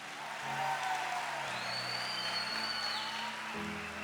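A church congregation claps together during a Catholic service, a steady wash of applause lasting a few seconds beneath a held organ or keyboard chord that shifts pitch.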